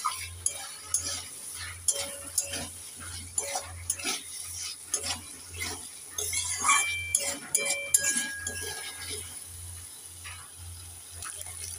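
Fried potatoes being stirred into cooked masala for papaya kofta, soft rhythmic spoon clinks and scrapes with a low sizzle underneath, a steady low hum in the background, and talk over it.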